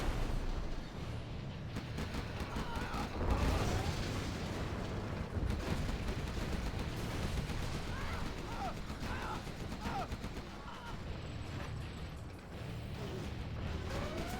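Artillery fire in Command and Conquer Generals Zero Hour rumbles in dense, layered bursts with mechanical clatter, a sustained busy battle din at moderate loudness, with faint game voices mixed in.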